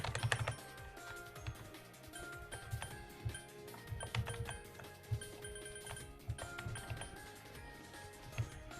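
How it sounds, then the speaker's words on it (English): Computer keyboard typing during a game session, quick irregular clicks and clacks in short bursts and pauses, close but fairly quiet, accompanied by faint game music tones. "Forgive the keyboard sounds, but that's just how it's gonna have to be."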